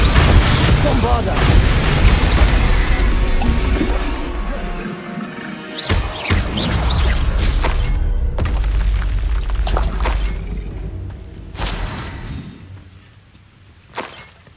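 Bombarda spell explosions in the Hogwarts Legacy video game boom and crash in a dense, loud battle, with sharp blasts and thuds over a constant rumble before it thins out near the end.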